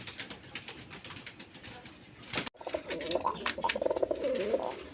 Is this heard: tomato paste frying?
no